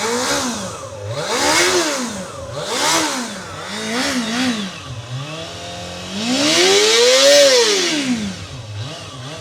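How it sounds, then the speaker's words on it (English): A sport motorcycle engine, recently fitted with a new air filter, revs close by in several quick blips, then climbs into one longer, higher rev before dropping back toward a rough idle. "So when it's revving, it's smooth as can be, but idle, it's not exactly solid idle just yet."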